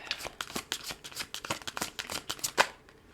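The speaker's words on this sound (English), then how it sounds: "If you don't like the shuffling, you can always fast forward a little bit." Tarot cards are shuffled by hand in quick, crisp, irregular riffling bursts, close but quiet, with no talking.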